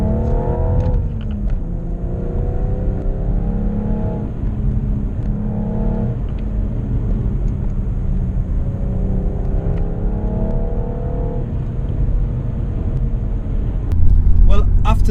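A BMW M135i fitted with Eibach springs drives along a tighter, bumpy road, its steady engine rumble and tyre noise continuous from inside the cabin, with a brief louder surge near the end.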